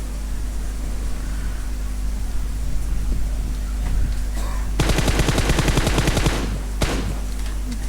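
Rapid automatic gunfire bursts from the battle royale game PUBG, a dense volley in the middle followed by a few scattered shots over a steady background hum, loud and close.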